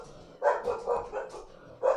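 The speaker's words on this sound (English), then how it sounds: "There's a dog outside." A dog barks outside, a few muffled, distant woofs in an uneven rhythm against a quiet indoor background.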